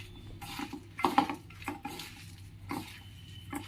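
A spoon stirs onion pakora batter in a bowl, giving soft scraping and clinking with a few sharper knocks against the side. It is quiet and close, with no talking.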